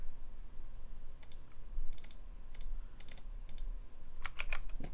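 Typing on a computer keyboard: scattered bursts of key clicks at a moderate pace, ending in a quick flurry of louder taps, close up in a quiet room.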